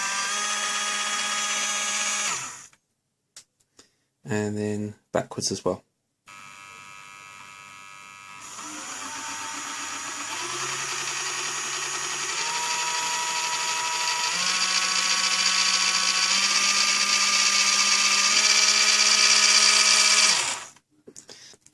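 Small electric motors in a robot car kit spin the wheels with a steady, close whirring whine that stops, restarts and rises in pitch over a long run, with a brief spoken line early on.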